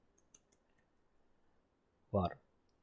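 A few sparse, faint clicks come from a computer keyboard as someone types a command to start a Jenkins server. A brief burst of voice cuts in near the end.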